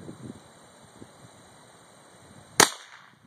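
A single sharp gunshot from a Cricket rifle, loud and close, cracking out after a few seconds of quiet outdoor rustle and fading quickly.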